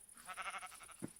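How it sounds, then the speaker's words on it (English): A gray sheep bleating in the blocky sandbox video game Minecraft at sunset, a single short wavering bleat heard close and clear, followed by a soft thump. "Is that a pink sheep? No, it's a gray sheep in the sunset."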